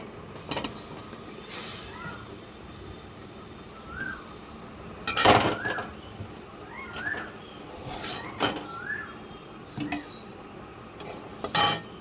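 Red amaranth greens stirred in a pan with a metal utensil, giving scattered light clinks and scrapes at an irregular rhythm over a quiet kitchen background.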